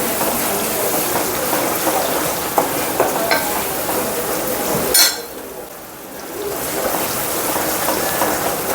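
Ground paste sautéing in a pan for drumstick-leaf (murungai keerai) thokku with garlic, a steady sizzle with scraping stir strokes throughout and a brief louder clatter midway before the frying settles back.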